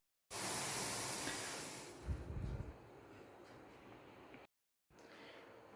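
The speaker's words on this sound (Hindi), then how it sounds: "तो बस यहाँ चाय उबलने लगी।" Tea boils in a pot on a stove, giving a loud steamy hiss with a burst of low bubbling, which quiets to a softer simmer before cutting out briefly and returning faintly.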